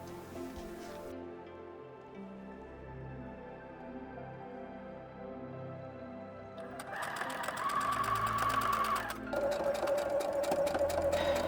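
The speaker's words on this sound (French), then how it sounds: "J'ai donc cousu en suivant mon empreinte réalisée à la craie." A sewing machine stitches fabric along chalk marks, first a quiet hum with low motor tones, then a fast, steady, loud mechanical whirr that pauses briefly and runs again.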